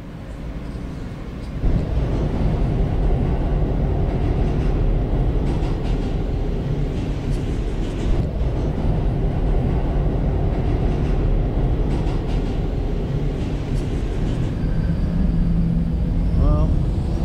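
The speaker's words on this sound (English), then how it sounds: "there goes the D train" New York subway D train passing, a loud steady rumble and roar of wheels on track filling the whole stretch, with a faint squeal near the end.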